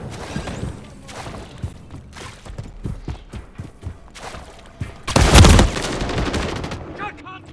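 Gunfire in Call of Duty Modern Warfare III multiplayer: scattered close shots crack through the first seconds, then a loud rapid burst hits near the middle. Game voice callouts and other battle sounds continue around it.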